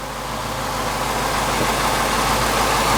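Engine idling after a 4-valve swap, a loud, steady rumble with an even low throb and no revving, close and continuous for the whole stretch.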